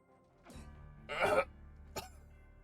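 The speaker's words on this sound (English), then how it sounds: "it was just the one cough" A single harsh cough sound effect from the Fate/stay night visual novel, a wounded character coughing up blood. A faint catch comes first, then one strong raspy burst, then a brief breathy hitch over a low quiet hum.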